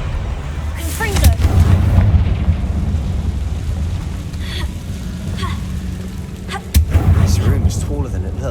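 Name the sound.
Confringo spell blasts in Hogwarts Legacy video game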